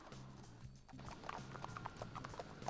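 Horse hooves clip-clop steadily on a UK road, a quick, even run of hoof strikes over a low, steady background hum.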